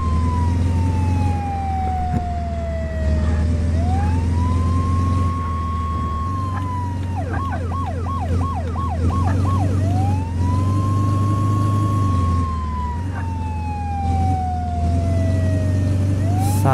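A wailing ambulance siren in the video game Flashing Lights sweeps up and down, broken by a rapid warbling burst, over a constant low engine drone, like an emergency vehicle driving.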